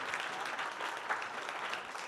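Audience applause at an evening francophone health podcast award ceremony, a steady dense wash of clapping from a crowd, continuous and fairly loud throughout with no voices over it.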